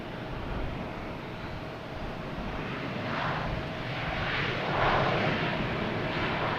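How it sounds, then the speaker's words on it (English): American Embraer E-175 jet passing near Boston Logan Airport, a broad steady engine roar that swells slightly as it goes by, with no voices. "That American E-175 coming from Indianapolis."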